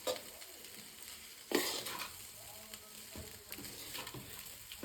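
Tamarind rice mixture stirred in a pan over a low flame, with soft scraping and faint sizzling, plus one sharper clatter of a spoon against metal partway through.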